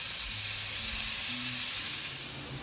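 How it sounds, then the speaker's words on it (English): Pork stir-frying in a pan over high heat, a steady loud sizzling hiss that fills the whole stretch, close and unbroken, with faint low clatter underneath and no talking. "my daughter mixes that in the pan and stirs it on high heat to make sure the pork is cooked evenly"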